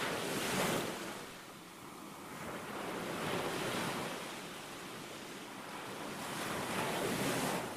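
Ocean waves used as a sound effect in a stage playreading, surf swelling and receding in slow rolling surges with airy wind-like hiss, steady and fairly close, no voices.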